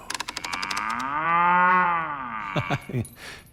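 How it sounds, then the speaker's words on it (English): A single long cartoon cow moo, rising and falling smoothly, framed by brief clicky effects at the start and short voiced sounds near the end. "This is a cow."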